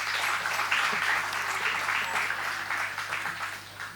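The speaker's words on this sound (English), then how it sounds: "So a huge round of applause for the finalists who have made it today." An audience at a school debating competition applauds the finalists, a continuous, even wash of clapping over a low steady hum, slowly tapering toward the close.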